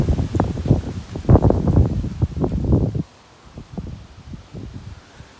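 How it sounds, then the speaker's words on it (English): Strong wind gusts hard through bamboo and garden shrubs, a loud, close, churning rustle with rough buffeting against the microphone. The gust drops off suddenly into a softer, intermittent rustling. "Very windy today."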